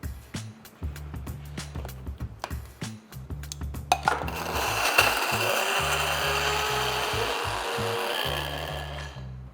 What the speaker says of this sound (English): next, we're going to grind this into a really nice powder.